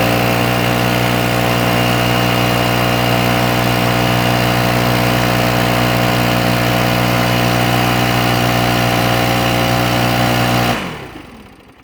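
A Stihl BR700 backpack leaf blower runs at full throttle with a loud, steady, high-pitched engine whine for about eleven seconds, then shuts off and fades quickly.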